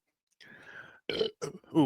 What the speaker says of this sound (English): That was a disappointing burp.